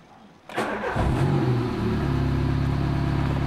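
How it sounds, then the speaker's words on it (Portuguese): A car engine being started in a workshop test on a slightly cold engine. It cranks briefly, catches, and settles into a steady, fairly loud idle at around 1000 rpm. "Ó, o motor ligou."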